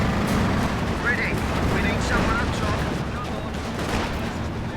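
Machine gun fire rattles through a dense, continuous wall of battle noise in the World War II strategy game Company of Heroes 2, with a voice talking over the fighting.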